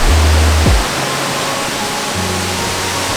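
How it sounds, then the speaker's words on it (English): Zillie Falls waterfall on the Atherton Tablelands, a loud, steady broadband rush of falling water, close and continuous, with a brief low engine-like hum and tone layered over it. "Welcome to Zilly Falls."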